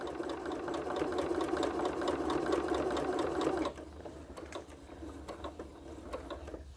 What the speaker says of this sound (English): And go ahead and stitch on that one.